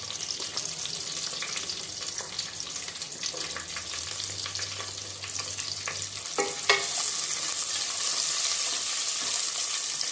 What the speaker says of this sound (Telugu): ఇది బ్రౌన్ కలర్ వచ్చేంత వరకు వేయించుకుందాం